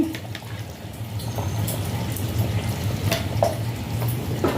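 Mutton curry with curd being stirred in a pan, a steady close sizzle and bubbling with soft scraping strokes throughout, loud and continuous with no talk.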